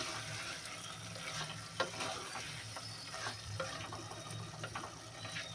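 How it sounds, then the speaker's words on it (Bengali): Duck meat and spinach are stirred in a pan, a steady sizzle of frying running throughout with scraping stir strokes and small clatters over it, close and moderately loud. "এইভাবে ভালো করে নাড়াতে থাকবে, তাহলে কিন্তু তলায় লাগবে না।"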